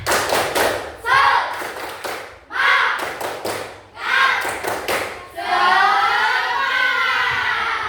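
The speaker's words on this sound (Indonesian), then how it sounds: "Tepuk semangat" A classroom group performs the Indonesian 'tepuk semangat' clap routine, sharp rhythmic hand-clap bursts in counted patterns, close and loud, followed by a sustained stretch of voices chanting along.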